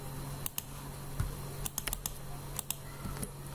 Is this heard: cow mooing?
no